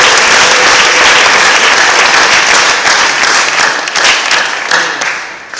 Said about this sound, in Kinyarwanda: Duhe Imana amashyi ku bw'aba bantu.